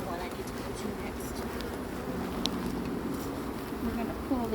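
Honey bees swarm over frames in an open hive during winter preparation, a dense, continuous buzzing hum close by with faint handling clicks and quiet talk beneath.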